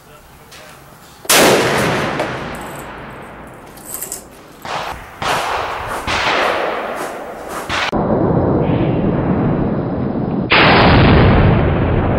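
Large-calibre guns including a Barrett .50, S&W 500, .50 Desert Eagle, UTS-15, Mossberg and Saiga fire at an outdoor shooting range, with loud, sharp blasts and booming reports followed by ringing echoes, one heavy shot after another, and brief talk between shots.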